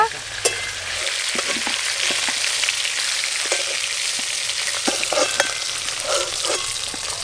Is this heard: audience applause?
no